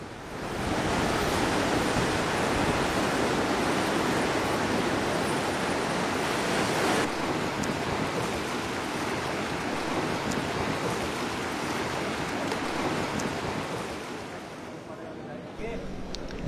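Indian Ocean surf on Bali's east coast near Candidasa, a loud continuous wash of breaking waves that eases slightly toward the end, heard alone.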